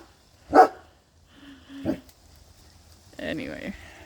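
A dog gives a few short barks and yips, spaced apart, fairly close, with some faint vocal sounds between them.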